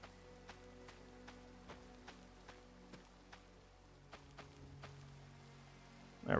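Steady rainfall in Minecraft, a soft continuous patter with faint scattered drop ticks running evenly throughout, ending in a brief louder burst.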